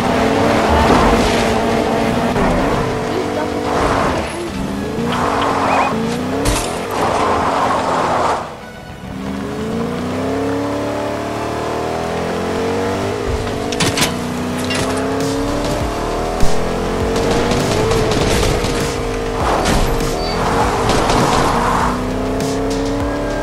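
A car driven in the Fortnite video game gives a continuous engine drone that rises and falls with shifting pitch, with bursts of noise and a few sharp impacts along the way, steady and fairly loud throughout.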